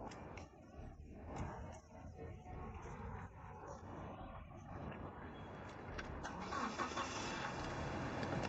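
A car engine turns over and revs up to pull away quickly, rising into a steady loud roar in the closing seconds, with muffled voices at the start.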